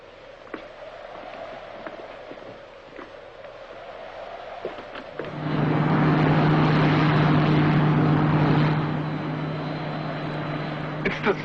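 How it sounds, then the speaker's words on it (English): A Space Ranger spaceship, the Silver Moon, lands in a 1954 science-fiction film, its loud steady engine drone with a low hum swelling in midway and holding over faint background clatter. "a Space Ranger ship is landing"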